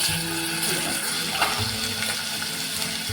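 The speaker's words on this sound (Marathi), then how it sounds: "त्याच्यामध्ये मी लसूण आणि आळ ठेसून टाकते" Crushed garlic and ginger hitting hot oil in a pan, a dense continuous hiss and rushing sizzle, close and steady throughout, with a small knock near the middle and no one speaking.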